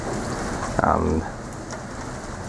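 Heavy rain on an extremely wet day in Kefalonia, a dense steady hiss of drops on surfaces that runs throughout, with a brief spoken word over it near the start.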